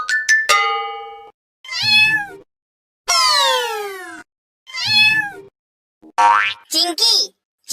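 A small cat meows repeatedly in short, bright, varied cries with gaps between them, loud and close, mixed with cartoonish boing-like sliding tones.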